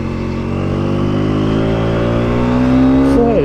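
An Aprilia 125cc motorcycle accelerates hard with a loud, close engine note that climbs steadily in pitch, then shifts gear near the end.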